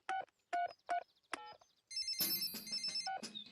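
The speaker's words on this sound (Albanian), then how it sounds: "Po e i telefonoj gjyshit qen për kamionin e tij." In a Peppa Pig cartoon, a telephone beeps through a quick run of dialing tones, then a bright electronic ringtone warbles with a higher trill, clear and close with no talk.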